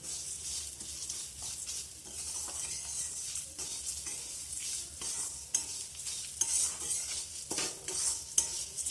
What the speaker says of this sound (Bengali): এই কাঁচা মুগ ডালটা তেলে ভাজার জন্য